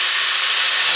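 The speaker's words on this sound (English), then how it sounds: "get the drill and get to cutting a hole" A power drill bores a hole through a wall for a Mr. Cool unit installation, a loud, close, continuous grinding hiss of the bit cutting through material, with no speech.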